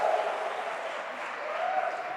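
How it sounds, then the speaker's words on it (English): Audience clapping fills a conference hall, a steady dense wash of applause held at even loudness throughout, with no voices over it. "You can probably hear the clapping just through my microphone, right?"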